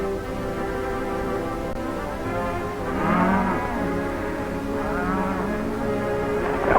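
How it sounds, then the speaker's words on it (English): A herd of cattle on an open western range moos in overlapping low, drawn-out calls from several animals at once, a continuous lowing that swells midway and stays fairly loud, with no talk over it. "That's some of our cattle down there."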